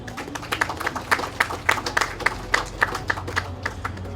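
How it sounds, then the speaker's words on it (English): An audience applauds at a Salvation Army Christmas Appeal event, a steady patter of hand claps with sharp individual claps standing out over a low room murmur, lasting a few seconds. "You see, clapping loosens the fingers."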